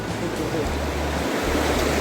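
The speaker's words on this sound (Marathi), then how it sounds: "ही आमची नदी आहे" River water rushes past farmland where a pump motor sits in the stream, a steady, loud wash of broadband flow that holds unbroken from start to finish.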